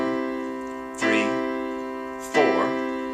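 Two piano notes struck about a second and a half apart, each ringing on with a rich sustained tone, clear and close with no other sounds.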